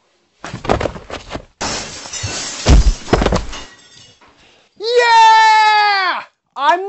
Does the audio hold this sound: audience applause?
no